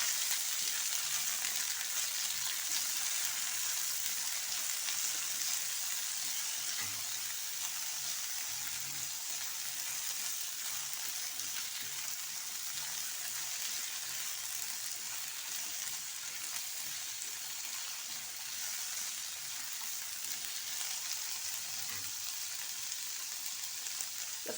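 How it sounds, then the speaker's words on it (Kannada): Sweet pumpkin skin and other chutney ingredients fry together in a pan, giving a steady, even sizzle that continues unbroken and fairly quietly throughout. "ಎಲ್ಲ ಒಟ್ಟಿಗೆ ಫ್ರೈ ಆಗಬೇಕು ಫ್ರೆಂಡ್ಸ್,"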